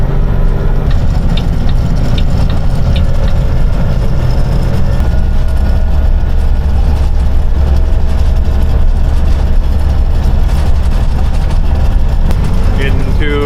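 Heavy 90,000 lb truck engine pulling uphill, a deep continuous low rumble filling the cab, steady throughout.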